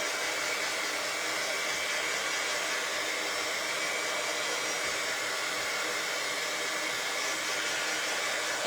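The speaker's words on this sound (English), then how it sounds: "it's an embossing tool is what it is. From when I used to scrapbook." A handheld heat embossing tool blows steadily to dry paint on a small wooden craft piece, a continuous airy whoosh like a hair dryer held close, unbroken for the whole stretch with no talking.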